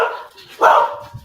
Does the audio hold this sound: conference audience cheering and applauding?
no